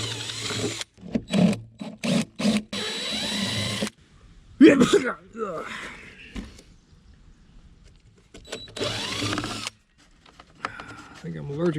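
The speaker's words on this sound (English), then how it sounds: "I'll get my drill." A handheld power drill whirs in repeated short bursts while sheet metal fittings are removed in a cluttered hoarder house, interleaved with a person talking and some clanking.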